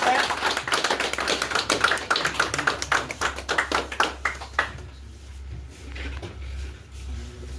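Brisk, dense clapping from an audience at a retirement farewell gathering, loud and close for over four seconds before thinning out, followed by quieter room murmur.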